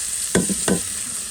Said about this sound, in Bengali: এটাকে একটু ভাজা ভাজা করবো